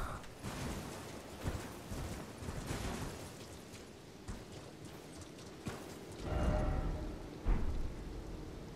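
Blood rain and thunder in the Elden Ring video game, a soft rain wash with deep thunder rumbles rolling underneath, along with intermittent hoof-like clopping and other in-game thuds, all fairly quiet.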